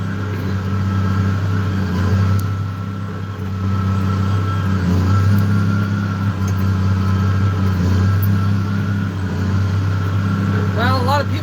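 Red MX 255 tractor engine running at a steady idle, a loud continuous low rumble throughout with a brief higher squeal near the end.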